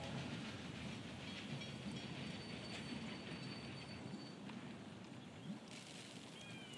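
A train arriving in the railway video game Railway Empire, with a continuous rumble of rolling wagons, squealing wheels and a few clicks, moderately loud and steady throughout.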